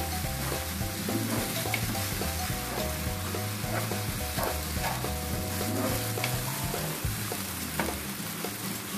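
Minced meat with potato and tomato sizzles and fries steadily in a pan over a medium flame, with occasional stirring scrapes and clinks close by.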